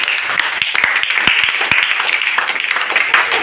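A church congregation claps for Jesus, loud, close, continuous applause from many hands with sharp individual claps standing out over a dense wash of clapping.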